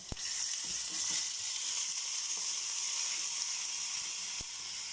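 Coarse-ground masala sautés in a pan with mustard seeds for South Indian curd rice, giving a loud continuous sizzle with a few sharp pops and light stirring, and no voices.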